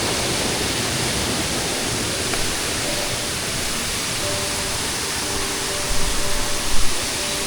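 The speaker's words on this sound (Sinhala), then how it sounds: "ඒ ලස්සන දියැල්ල පේනවනේ ලස්සනට කඩා හැලෙනවා පල්ලෙහාට" Athiniwala waterfall in Mandaram Nuwara cascades down in a broad, steady roar of rushing water, heard from a distance as a constant wash of noise with a faint tone and a brief bump near the end.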